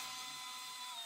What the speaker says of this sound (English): I'm going to drill an 1/8 inch